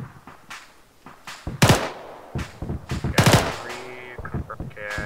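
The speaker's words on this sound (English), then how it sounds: "Taking fire." Sharp gunshots crack in a military shooter game, several loud separate bursts including a rapid volley, with radio-style voices and game sounds around them.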